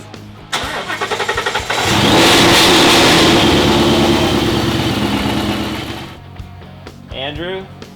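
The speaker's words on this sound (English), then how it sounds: "fire it up, and Andrew's gonna do a burnout for us" A 2016 Mustang GT with a VMP fuel system upgrade fires up and revs hard into a burnout, loud sustained engine roar that builds quickly, holds, then drops off, with brief voices at the end.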